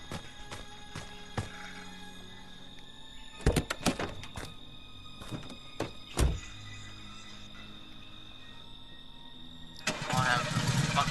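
A car engine in the video game Friday the 13th: The Game cranks and catches near the end, breaking into a steady rumble after several sharp thumps and knocks in a quiet stretch.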